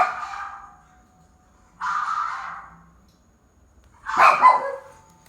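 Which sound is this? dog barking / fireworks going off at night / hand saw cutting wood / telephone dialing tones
dog barking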